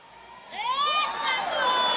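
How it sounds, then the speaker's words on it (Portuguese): Church crowd shouting and cheering together, a rising burst of many voices that swells and holds loudly, with whoops over the din. "dê um grito de glória a Deus."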